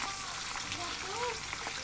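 Jengkol frying in hot oil, a soft steady crackling sizzle close by, with faint tonal sounds in the background.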